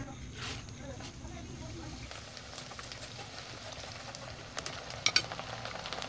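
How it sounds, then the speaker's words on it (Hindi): Moong dal frying in oil for a namkeen snack gives off a soft, continuous, crackling sizzle at a low level, with a few louder pops near the end. "इसकी आवाज से पता चल रहा है कि ये फ्राई हो गया है"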